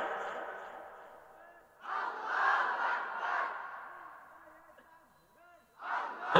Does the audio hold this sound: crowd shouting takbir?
yes